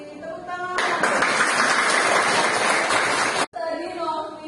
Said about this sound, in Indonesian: Terima kasih Novi. Tepuk tangan